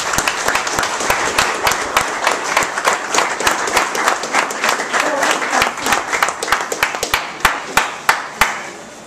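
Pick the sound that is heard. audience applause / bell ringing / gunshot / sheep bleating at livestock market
audience applause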